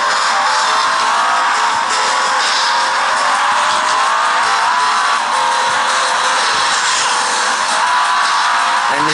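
Car driving in a racing video game played on a Micromax Canvas Viva A72 phone, a steady loud engine whine with tire noise that continues throughout, with no talk.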